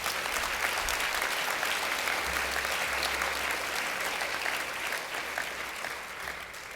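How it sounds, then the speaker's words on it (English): An audience at the 2015 Human Rights Awards gives another round of applause for the finalists, a group of Australians. Sustained, even clapping from a large crowd fills the whole stretch at a steady level and eases slightly toward the end. "I think that deserves another round of applause."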